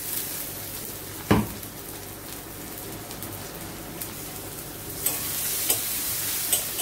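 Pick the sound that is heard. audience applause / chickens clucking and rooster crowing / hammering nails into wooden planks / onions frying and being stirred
onions frying and being stirred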